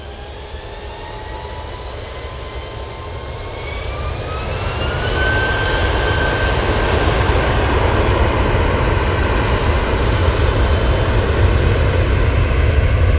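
Jet engines of a Jet2 Airbus A319 airliner build into a loud, steady roar with a rising whine, growing stronger and holding at full volume, heard from a distance at an airport.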